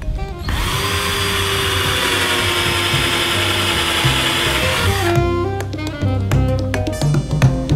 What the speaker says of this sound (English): screw holes drilled with the countersink